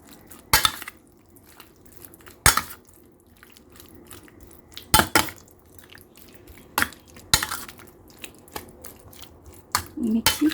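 Barbecue sauce being stirred in a bowl, a spoon clinking and scraping against the bowl in sharp irregular taps over a soft background murmur.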